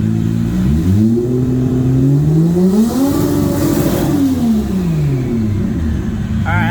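A Nissan 240 with a 1200hp 2JZ engine accelerates on light throttle, its loud, close engine note climbing steadily through gear changes with a brief dip mid-pull before rising again.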